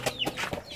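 A chicken clucks several times in quick, close bursts, with short squawky notes scattered through under a noisy background; the bird is in a backyard-style football game.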